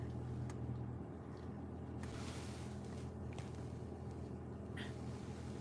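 A car cruising along a road in Ireland, a low steady engine and tyre rumble from inside the cabin, constant and moderately quiet, with a few faint clicks and rattles over the drone.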